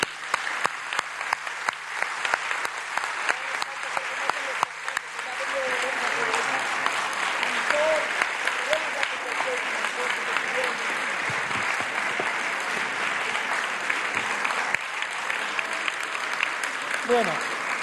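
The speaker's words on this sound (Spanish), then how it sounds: "quisiera que despidiéramos con un aplauso a estos amigos" An audience at a university closing ceremony breaks into sustained applause, a dense wash of clapping that swells and carries on for many seconds in a hall.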